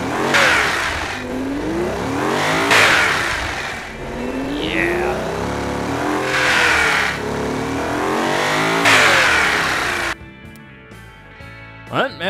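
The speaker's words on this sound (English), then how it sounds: "This is a beast of an engine." A 1965 supercar engine in the video game BeamNG revs hard several times, rising and falling in loud surges, then settles into a lower rumble near the end.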